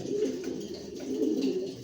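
A pair of grizzle pigeons coos softly, with low murmuring calls close by and no talk.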